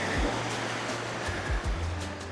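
Atlantic Ocean surf breaking on a beach, a continuous close rush of churning water with brief swells of louder wash, heard alone without talk.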